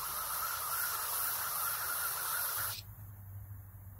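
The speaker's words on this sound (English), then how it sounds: "I'm going to use some carburetor cleaner to try to break it up." Carburetor cleaner sprays in a steady, close hiss into a stuck small engine, cutting off abruptly near the end with a faint low hum left behind.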